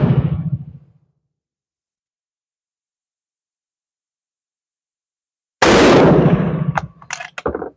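Enfield No5 MK1 rifle gunshots, two loud, close cracks separated by several seconds of silence, the second followed by short metallic clicks and rattles.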